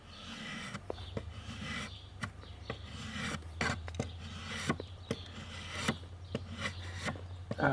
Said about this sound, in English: I can sit and run a draw knife all day